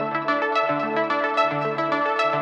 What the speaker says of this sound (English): Which is an ARP that is playing from the AstroLab 37